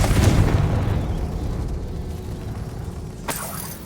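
A blasting spell in the Hogwarts Legacy video game erupts in a loud booming explosion at the start, then decays into a rumbling tail, with a brief crack of debris near the end.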